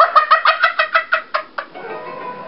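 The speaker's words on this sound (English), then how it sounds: "Oh my crap, it's a chicken!" A chicken in Super Mario Galaxy 2 gives a rapid run of about ten sharp, close clucks in a steady rhythm, then trails off into a softer drawn-out squawk.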